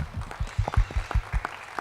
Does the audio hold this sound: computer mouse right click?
no